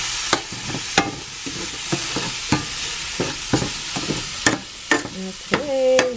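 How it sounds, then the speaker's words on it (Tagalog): Onion and garlic cooking in a pan for chicken fajitas, heard as a steady sizzle broken by repeated sharp scrapes and knocks of a utensil stirring, fairly close, with no talking. "Lutuin lang natin yung onion. Ang garlic."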